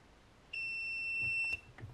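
A single steady electronic beep from a Sunlu 3D printer filament connector, high-pitched and clear, holding for about a second before cutting off, with faint handling noise afterward.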